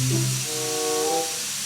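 A pressure cooker on a stove lets out its whistle, a loud, steady, hissing steam blast with a wavering tonal whine running through it.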